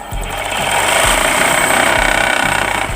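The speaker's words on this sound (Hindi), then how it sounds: "तो दोस्तों देखो अब हम सिलाई करते हैं इसकी।" An umbrella-type sewing machine stitches fabric after its thread tension is raised, giving a loud, steady mechanical chatter with rapid repeating knocks that runs continuously throughout.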